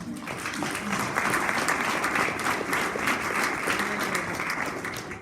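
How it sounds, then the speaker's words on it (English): A school parent meeting audience gives a dense, even round of applause, many hands clapping continuously at moderate loudness with no talk over it. "I'd like to encourage a second round of applause for Shiloh and Nick Frischel"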